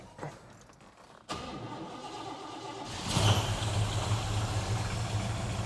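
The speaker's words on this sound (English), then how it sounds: "All right, let's get a cold start." A fuel-injected Chevrolet El Camino engine cranks and catches on a cold start, then settles into a steady, rumbling idle.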